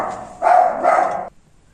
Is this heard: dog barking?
yes